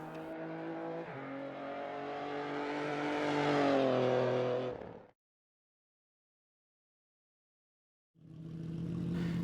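A rally car engine in the NGP6 racing game revs and climbs under acceleration, a loud buzzing drone that rises in pitch, cuts out to silence, then returns with another burst.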